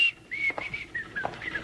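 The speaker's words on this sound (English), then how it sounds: "I'll just start whistling and pass right on by." A man whistles a simple tune while walking, the melodic notes clear and close with faint room noise beneath.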